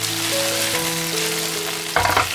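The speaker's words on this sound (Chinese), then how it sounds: "小火慢煎，煎至两面都给它有金黄。" Chicken thighs pan-frying in oil over low heat for teriyaki chicken, a steady close sizzle with faint tonal background hum and a brief louder burst of crackling near the end.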